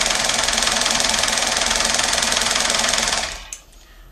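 A Singer 224 overlock sewing machine stitches along a fabric edge with a loud, fast, steady mechanical whir that runs continuously for about three seconds, then slows and stops, leaving a few faint handling clicks.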